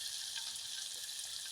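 Chicken pieces fry in hot oil late at night, making a soft, steady hiss and crackle that stays faint and even throughout, with no talking.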